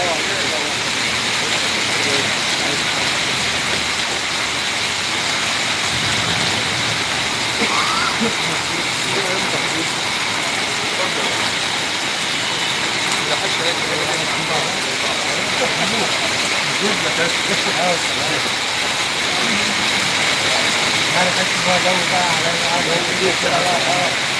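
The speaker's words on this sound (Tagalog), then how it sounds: "Ang lakas ng ulan." Heavy rain pours down in a dense, unbroken hiss throughout, with faint voices and background activity beneath it.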